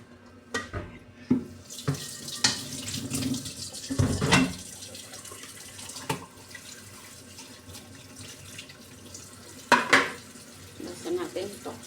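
A frying pan being washed under a running kitchen tap, steady water splashing with scattered clanks and knocks of the pan against the sink, close and fairly loud, with occasional faint voice.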